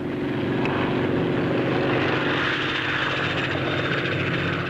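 A Fairey Ultra Light helicopter with compressed-air pressure jet units at the tips of its two-bladed rotor roars steadily at a 1950s Farnborough air show, a broad continuous jet-like rush with no talk over it.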